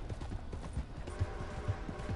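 Horse hooves clip-clopping in the Red Dead Online video game on PS4, a steady rhythmic series of soft thuds at a walking or trotting pace, close by and alone without talk.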